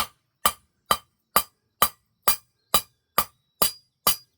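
Ten sharp, ringing metallic strikes of a hammer working metal for a candle holder land at an even, steady pace, each one bright and clipped, with silence between them.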